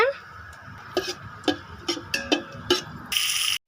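Cinnamon and cloves frying in ghee for biryani give a soft steady sizzle, broken by several sharp ticks of a utensil stirring the pan, with a louder hiss swelling near the end.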